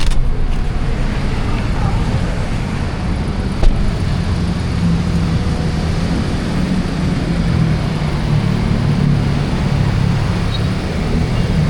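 A pink Suzuki Every DA17V Tiptronic minivan idles after being revived from a no-fuel problem, a loud steady engine drone with a brief knock early on and no talk.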